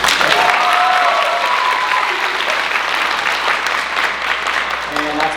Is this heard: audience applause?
yes